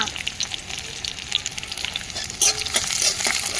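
Bori and onion fry in a pan with a steady crackling sizzle, and a spoon stirs now and then. The frying grows louder toward the end, with no talk over it.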